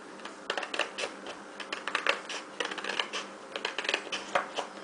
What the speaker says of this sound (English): And again with the scissors, we're going to cut with care